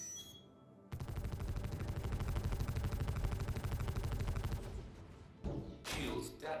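Sustained rapid automatic fire from an enemy in the Star Citizen video game, a dense loud rattling burst lasting several seconds, followed by heavier thumps and impacts near the end.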